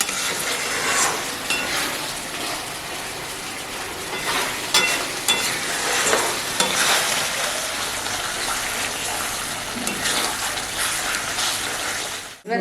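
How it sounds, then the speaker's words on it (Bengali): Mughlai chicken being sautéed and stirred in a pan, a continuous close sizzle with repeated scraping and stirring strokes and occasional pan knocks. "এটা মোটামুটি 5-7 মিনিট আমি কষাবো।"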